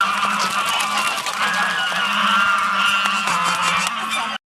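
A flock of geese on a village goose farm honks continuously, a dense, loud chorus of overlapping calls that runs steadily before cutting off abruptly.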